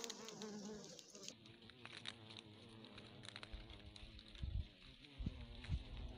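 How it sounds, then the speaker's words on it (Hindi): Indian honey bees (Apis cerana indica) buzz around a hive at an old Shiva temple, a faint, continuous insect drone with light patter and a few soft thumps near the end, and no speech. "यहाँ पर एपिस सेरेना इंडिका का छत्ता है"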